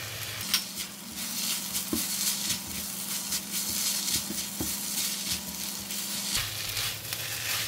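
Kimchi fried rice sizzles in a hot pan after kimchi juice, sesame oil, light soy sauce and spring onions go in, a steady close frying hiss with occasional stirring scrapes and a low hum beneath.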